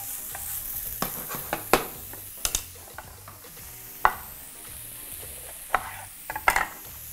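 Oyster mushrooms sizzle softly in a hot pan while a utensil stirs and scrapes at irregular intervals, close by and fairly quiet.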